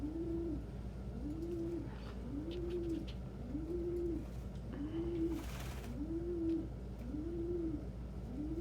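Pigeons coo in a steady, evenly spaced series of soft, rising-and-falling calls, about one per second, over a constant low background hum, with faint brief rustles and a short noisy burst midway.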